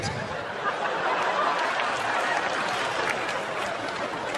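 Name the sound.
comedy audience clapping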